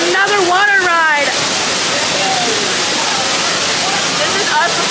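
A water ride at Knott's Berry Farm: a loud, continuous roar of rushing, splashing water fills the scene, with voices calling out at the start and again near the end.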